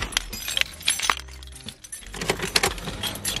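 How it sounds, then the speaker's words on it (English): Car keys jangling and clinking as they go into the ignition of a Vauxhall Astra Mk5, a series of sharp metallic rattles close to the microphone with brief pauses between them. "I'm going to stick the keys in and we'll give you a listen so you can see what it sounds like."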